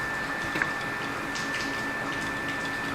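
An A8 3D printer prints a magnetic paddle shifter, giving off a steady mechanical whir with a thin constant whine that runs unbroken and close, with no talking.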